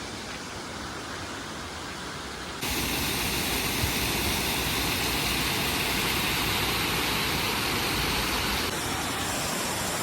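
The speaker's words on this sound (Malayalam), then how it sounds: "അടുത്തൊരു വെള്ളച്ചാട്ടത്തിൻ്റെ അടുത്ത് ഞങ്ങൾ എത്തിയിട്ടുണ്ട്" A waterfall at Nelliyampathy gives a loud, continuous rushing roar, which grows noticeably stronger partway through as if coming nearer.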